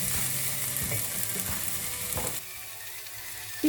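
Roasted peppers sizzle and crackle in a soup pot while a utensil scrapes and stirs through them, a few clunks, then the sizzle quiets.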